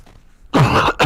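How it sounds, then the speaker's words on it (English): A sharp burst of coughing breaks out close to the microphone after a near-silent stretch, one long loud cough followed by a short second one, with no talking during it. "got a cough."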